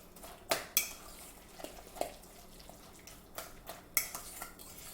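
A utensil clinks and scrapes against a bowl while guacamole is mixed, giving irregular light taps and knocks at close range with no talking.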